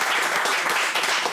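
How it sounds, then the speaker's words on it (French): Audition finalists at an opera competition applauding themselves, a dense burst of close, continuous clapping. "Vous pouvez vous applaudir bien fort déjà."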